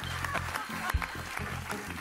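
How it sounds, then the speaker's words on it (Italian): Studio audience applause on an Italian TV show, moderate and somewhat distant, with loose scattered claps mixed with a low rumble and some voices underneath. "Un applauso a Memo Remigi."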